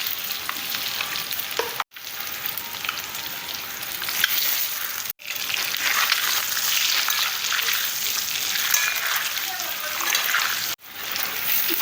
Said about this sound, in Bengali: ডিমগুলি ভাজা হয়ে গিয়েছে,